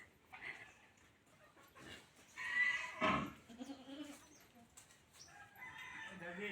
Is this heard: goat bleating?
yes